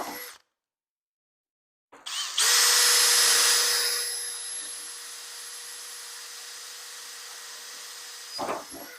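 A power drill bores holes in a door panel for a snowcat build, with a brief silence before a steady whining drill sound that starts strong, eases slightly, then stops near the end.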